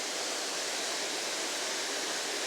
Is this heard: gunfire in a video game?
no